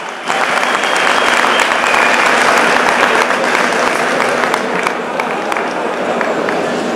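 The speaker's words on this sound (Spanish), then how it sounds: "Un aplauso para ella." Loud, dense applause from a crowd at an opening ceremony greets the Swedish ambassador, filling the space evenly for several seconds before easing slightly toward the end.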